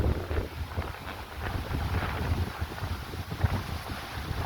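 Cold, dry wind buffets the microphone in a corn field, rumbling in uneven low gusts with a rustling texture, moderately loud and continuous, with no speech.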